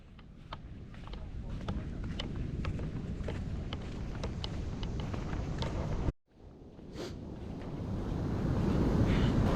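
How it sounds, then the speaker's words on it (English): Ocean surf on a Costa Rican beach at sunrise, a steady hissing wash of waves with gusty wind thumping the microphone, briefly cutting out partway, then swelling louder toward the end. "Got some decent waves over there too."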